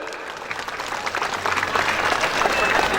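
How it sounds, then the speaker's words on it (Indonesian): Audience applause at a Melasti gathering, clapping that starts sparse and swells into a loud, dense crowd ovation, with some voices mixed in. "Tepuk tangan dulu saudara."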